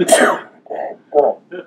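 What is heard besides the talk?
sneeze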